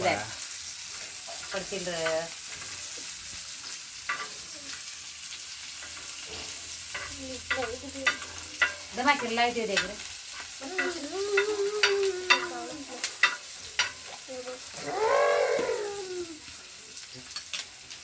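Okra sizzles in a hot pan on a village home stove while being stirred, with repeated scraping and stirring strokes over a soft frying hiss and faint bird calls in the background.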